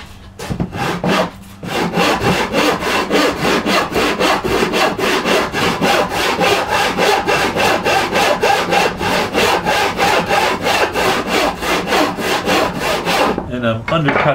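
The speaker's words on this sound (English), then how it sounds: "So that saw kerf will come, it'll just barely enter the wood right back here." A hand saw cuts tenon shoulders in a wooden side rail, with steady, rhythmic rasping strokes close by, preceded by a few short starting strokes and a brief pause.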